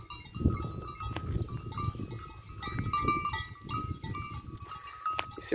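Sheep grazing in a pasture on a ranch, several animals bleating close by in overlapping calls, with a faint bell jingling and soft outdoor background, no talking.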